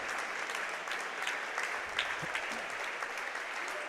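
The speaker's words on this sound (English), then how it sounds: "Let's give a round of applause to these outstanding individuals who've helped shape the futures of our senior" A basketball gym crowd gives school staff a sustained round of applause, dense and even throughout with a few louder individual claps, and no voices on top.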